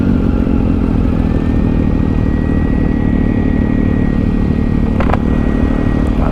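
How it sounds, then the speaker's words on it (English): A Triumph Daytona 675 motorcycle sits in traffic with its engine idling and the cooling fan whirring steadily, a loud, close, continuous hum with no talking. "That sounds like your fan, Lauren."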